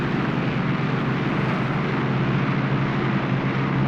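A military aircraft diving on a strafing run in the war game Graviteam Tactics: Mius Front, heard as a loud, continuous engine roar that holds steady for the whole stretch.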